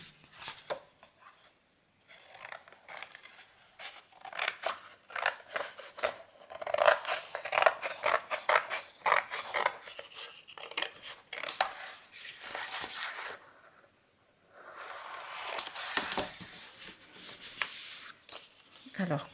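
Scissors cut through paper in a paper and cardboard folio craft, with bursts of close snipping and rasping interrupted by short pauses and handling noises.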